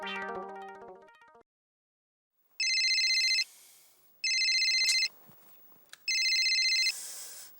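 A phone call to a relative is placed in a sitcom: a short run of electronic tones, a pause, then three loud, evenly spaced bursts of electronic ringing, with no talking.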